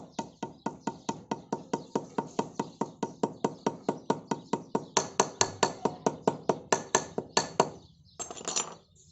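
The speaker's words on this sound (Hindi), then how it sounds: "पुरानी वाली ऑयल सील रख के थोड़ा ठोक लेते हैं।" An old oil seal being hammered into a motorcycle front fork: a steady run of about thirty sharp metallic knocks at an even quick rhythm, close and loud, ending in a few rougher strikes.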